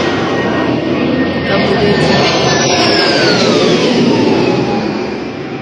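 A MiG-29 fighter jet roars past with a loud, steady broadband rush and a rising-then-falling engine whine as it flies by, fading slightly at the end.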